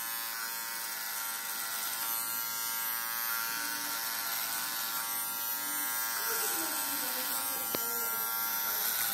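An inexpensive electric hair clipper buzzes steadily while cutting hair down to zero at a barbershop, a continuous near drone that persists throughout with faint talk in the background.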